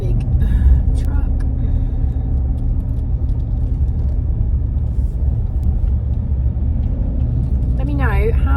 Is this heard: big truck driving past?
yes